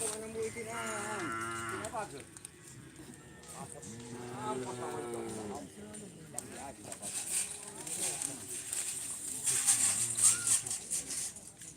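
Cattle low repeatedly at a Madurese bull race (karapan sapi) on Sapudi Island, with several long moos rising over a noisy outdoor crowd and people talking nearby.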